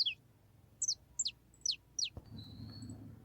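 A saffron finch (canário-da-terra), a small bird about 12 cm long, gives a series of four or five short, high, bright chirped notes spaced evenly, followed by a faint thin whistle over low background hum.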